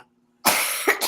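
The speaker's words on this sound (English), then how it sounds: "Oh my god, I'm gonna cough again." A single harsh cough bursts out after a stretch of near silence, loud and close, followed by a brief second throat-clearing burst; recorded during a podcast interview.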